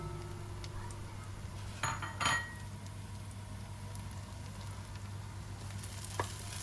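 Onion, ginger and garlic fry quietly in a pan under a low steady hum, with a few brief scrapes and a clink of utensil as they are stirred.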